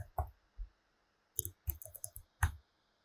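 Scattered keystrokes on a computer keyboard while a Git command is entered, a handful of sharp, close clicks in uneven bursts with quiet gaps between them.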